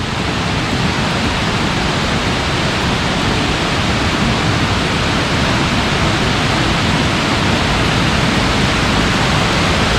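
After rain, the Khlong Lan waterfall runs hard, giving a constant, heavy hiss and rush of fast-flowing water that stays loud and even from start to finish with no one speaking.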